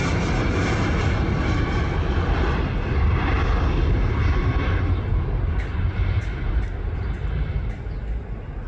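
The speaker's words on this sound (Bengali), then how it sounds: "তারপরেই চলে আসে থাই এয়ারওয়েজের ইয়ারবাস A330" Thai Airways Airbus A330 airliner passing near an airport viewing spot: a loud, sustained broadband jet engine roar that holds steady for several seconds, then slowly eases off, with no talk over it.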